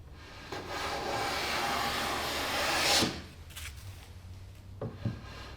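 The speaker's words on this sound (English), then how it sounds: "get a perfect fit with a hand plane" A hand plane shaves the edge of a wooden cabinet door, a sustained rasping stroke that ends abruptly, followed by a few light wooden knocks and handling sounds, close and fairly quiet.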